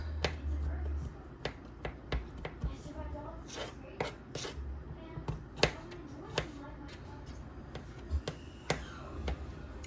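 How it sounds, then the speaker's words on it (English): A very small paring knife chops food on a board for sausage-stuffed mushrooms, giving a run of quick, irregular, close taps at a moderate level, with light kitchen handling noises between the cuts. "so I know I'm using a very tiny paring knife, but that's okay."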